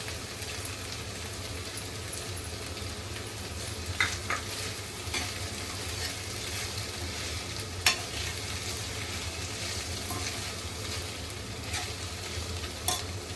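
Fresh grated coconut goes into cooking tondli (ivy gourd). A spoon scrapes and stirs through the vegetables over a soft continuous sizzle, with a few sharper clinks against the pan.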